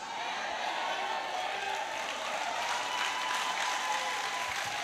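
A congregation at a church praise festival in Pampanga applauds in a steady, even roar of clapping that continues without pause, with faint voices and a sustained tone beneath.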